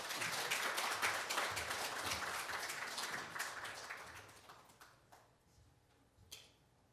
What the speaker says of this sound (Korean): 우리 한 번 더 박수로서 목사님 맞도록 하겠습니다.